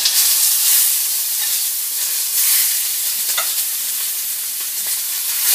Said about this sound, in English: In a hot saute pan, I'm going to sear off the chicken, which I've slightly seasoned with salt, black pepper, and garlic powder.